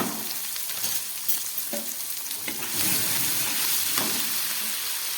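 Mustard, poppy seed and chilli paste with turmeric powder frying in a pan for a fish jhal curry, giving a steady, close, crackling sizzle that swells slightly partway through, with faint stirring and no voices.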